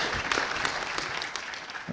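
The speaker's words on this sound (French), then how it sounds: "vous pouvez applaudir, vous avez le droit" Audience at a round-table agricultural conference applauds, a brief steady burst of many hands clapping at moderate distance, with no talk.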